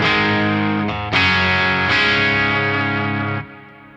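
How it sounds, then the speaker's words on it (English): Electric guitar, a Mayones Aquila Elite S fitted with Nolly Polymath humbuckers, played through an amp with a Twin Sister effect; a few loud, sustained distorted chords ring out alone, the last one cut off sharply. "I'm using the Mayonnaise Aquilar Elite S, and I've got the Nolly Polymath humbuckers in there"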